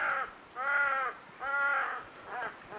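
A crow in an open, calm landscape caws four times in a slow, even rhythm, clear and fairly close against quiet background.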